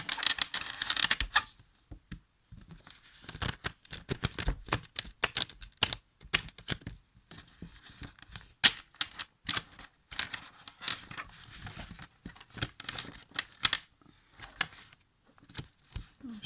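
A deck of oracle cards is shuffled by hand in quiet, irregular bursts of crisp flicking and papery riffling, close and fairly soft, with no voices.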